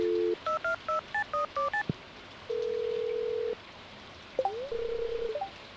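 Telephone dialing in the Stardew Valley video game: a quick run of eight clean keypad beeps, then a long steady tone and a final warbling ring signal, all clear and alone with no talk.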